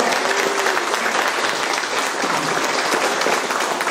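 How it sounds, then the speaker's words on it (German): Steady, dense audience applause at an evening Mazda 3 launch event, continuous clapping from a sizeable crowd close by with little else heard. "Ich glaube, ein Applaus ist dafür."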